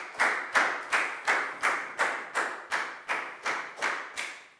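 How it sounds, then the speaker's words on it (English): A Year 4 math class claps for a classmate in a series of about ten evenly spaced, sharp clap-like bursts, each fading quickly, close and fairly loud with no talking. "High five and a big round of applause for Net"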